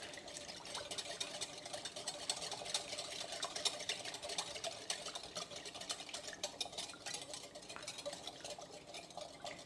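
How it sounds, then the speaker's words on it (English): Pineapple marinade with oil, a little water and salt being whisked in a bowl, a steady scraping, clinking swirl that runs continuously at moderate, close level with no talking. "And then we're going to whisk it together."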